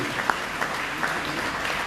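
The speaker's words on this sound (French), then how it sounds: "On peut encore les applaudir bien fort." Steady audience applause for short-film festival prize winners, a dense even wash of many hands clapping at moderate level throughout.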